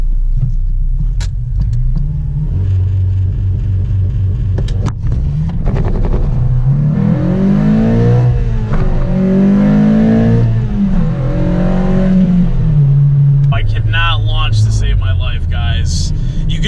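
Honda Civic Si engine held at launch control, idling low then rising into a rumbling rev of several seconds and settling back down, close and loud, with someone talking over the start and end.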